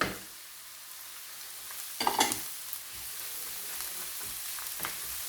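Vegetables including courgette and cabbage stirred into browned onion in a pan, a steady frying hiss with a cluster of sharper scraping clatter near the middle and a few lighter knocks later, no talking.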